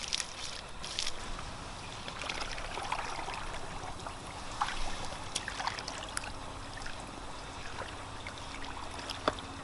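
Water filling a container to soak a sleeping bag outdoors, a quiet continuous trickle and splash with scattered small clicks and drips, faint and steady throughout.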